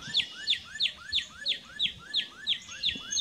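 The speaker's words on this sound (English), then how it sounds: "the sweet whistles of Northern Cardinals are one of the first sounds of the morning" A Northern Cardinal sings a steady series of about nine clear, slurred whistled notes, evenly spaced and close, repeated in a regular rhythm over faint background noise.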